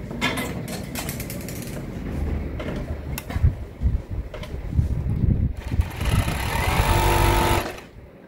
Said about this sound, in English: I'll overlock from this upper part to this down part that we notch the 5 inches.